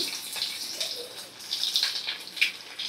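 Grated coconut sizzles in a hot wok of oil, giving a steady, fairly faint hiss with small crackles throughout, heard alone without talk.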